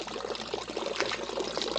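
Water flowing from a mountain spring, a continuous splashing pour with a bright, rushing texture, close and steady throughout with no voices.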